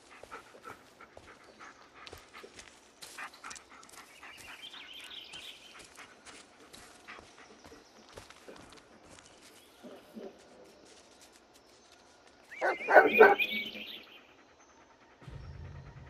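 A dog in the Blair Witch video game panting softly and shuffling at close range, with a short louder whimper or bark burst near the end, over quiet ambience.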